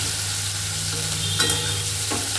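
Chopped garlic and onion fry in hot oil with Kashmiri chili for a chicken dish. A steady, close sizzle hisses throughout, with a few soft stirring scrapes and no voices.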